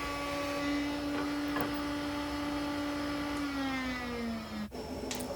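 A router table fitted with a bottom-bearing flush trim bit trims wooden pieces, giving a steady high motor whine. Toward the end the pitch sags under load, then the cut drops away abruptly.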